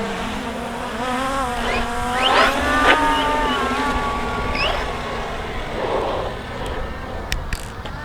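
A JLBRC JLB21101 extreme RC car drives with a whining electric motor that rises and falls as it accelerates and slows, loud and close, with some scraping and clicks toward the end.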